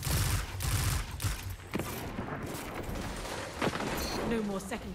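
Rapid video-game gunfire crackles in dense bursts throughout, from an enemy standing still and firing, mixed under a streamer's voice talking over the action.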